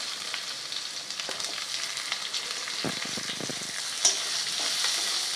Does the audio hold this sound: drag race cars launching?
no